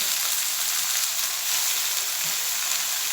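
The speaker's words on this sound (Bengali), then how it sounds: "শাকটা আমি দিয়ে দিচ্ছি এর মধ্যে" Fresh spinach hits a hot pan while cooking yogurt spinach (dahi palak), giving off a steady, close, hissing sizzle that holds at an even level throughout with no talking.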